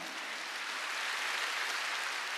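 A church congregation claps in unison, a continuous, fairly faint wash of hand clapping that holds steady without pauses.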